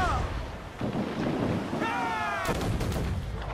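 Heavy cannon fire at a fort in Assassin's Creed IV Black Flag, deep booming blasts over a rumbling wind-like background, with a sharp loud hit near the end and someone speaking excitedly.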